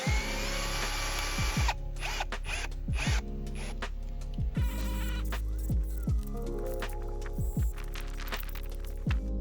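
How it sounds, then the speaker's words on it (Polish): A drill drives farmer screws through an aluminium angle on a bike shelter roof, making a series of short whirring, ratcheting bursts separated by brief pauses, close up with no talking. "Mocuję go na uszczelniaczu do dachów oraz przykręcam wkrętami farmerskimi."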